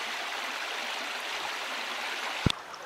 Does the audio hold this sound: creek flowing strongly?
yes